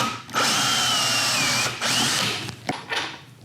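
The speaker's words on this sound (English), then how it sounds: "I need a 3/8 inch hole right there." A drill bores a 3/8 inch hole in mulberry wood for a woodturning project, a close, loud whirring whine in a couple of sustained bursts with short pauses between them.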